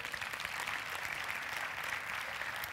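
A church congregation breaks into sustained, dense applause, steady and loud across the whole moment with no voices rising above the clapping.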